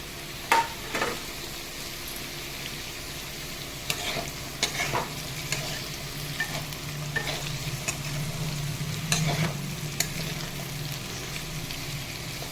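Onion and mixed vegetables sizzle steadily in a pan for pasta, with sharp scrapes and stirring knocks from a utensil breaking through the frying hiss at irregular moments, no talking.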